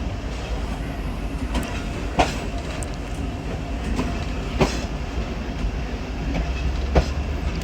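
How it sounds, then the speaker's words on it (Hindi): A passenger train pulls out of Domel station on the ML-2 line, its steady rumble and rolling carriages close and continuous, with periodic clacks of wheels over rail joints standing out every couple of seconds. "चलें जी दोमेल से हमारी ट्रेन निकल रही है।"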